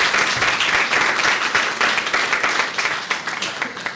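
A crowd at a legislators' scholarship honors event breaks into sustained applause for a family, a full, even clapping that thins slightly toward the end.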